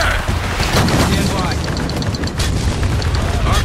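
A white phosphorus mortar strike in Spec Ops: The Line erupts in dense, continuous rumbling booms and crackling bursts that fill the whole stretch. Loud battlefield chaos sits close, with radio-style voices talking over it.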